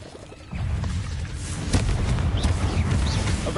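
Confringo blasting-spell explosions from Hogwarts Legacy give deep, rumbling booms that start abruptly and then build into a dense, sustained roar with crackling bursts layered on top.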